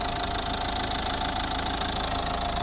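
A 2009 Nissan Qashqai+2's Renault K9K 1.5 dCi diesel engine idles steadily with a continuous knocking clatter and even hum, heard up close with no talking.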